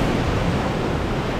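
Sea waves wash onto a Turkish shore a few days after a storm, a loud, steady broadband roar of surf with wind noise, continuous and close, no talk.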